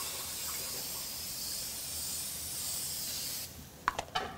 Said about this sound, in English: Joe, now that the grill is nice and hot, we're gonna add our nonstick spray